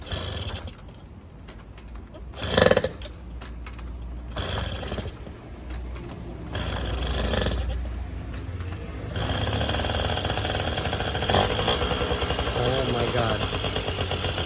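Yamaha motorcycle engine being kicked and started on choke, with a few sputtering attempts before it catches and settles into a steady rough idle, nearby and moderately loud.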